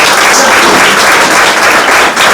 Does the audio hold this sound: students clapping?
yes